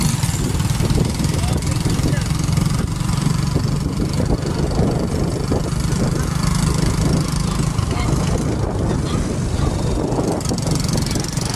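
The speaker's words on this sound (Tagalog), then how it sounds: "Ayan na po at hirap na ang aming motor. Dahil ito po ay pataas" A motorcycle labours up a steep road in General Nakar, Quezon, its engine droning steadily and low throughout, with a constant rough rumble and no pauses.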